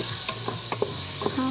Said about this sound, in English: we're going to sweat these onions down